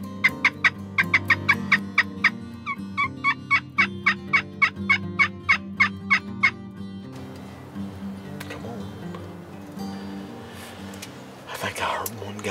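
A wild turkey during a Kansas spring hunt, across a road near a creek, sounds a rapid series of repeated calls for about six seconds, then soft whispered talk and rustling follow.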